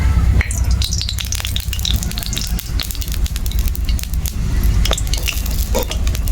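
Bay leaves dropped into hot oil in a wok (karai) while making muri ghonto with flattened rice: a steady close sizzle and frying crackle with occasional utensil clinks, no voice.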